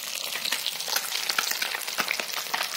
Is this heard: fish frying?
yes